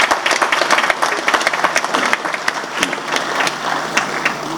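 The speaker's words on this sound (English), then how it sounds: "So I think this one deserves more applause." Audience applause at a university graduation ceremony, a dense, steady patter of many hands clapping at close range that holds for the whole stretch.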